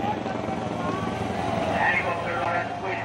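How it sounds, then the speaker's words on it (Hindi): A helicopter flying over Shiva devotee kanwariyas as it showers flower petals on them, giving a steady, broad rotor and engine drone that holds throughout with no breaks. "ये हेलीकॉप्टर शिव भक्त कांवड़ियों पर फूलों की वर्षा कर रहे हैं।"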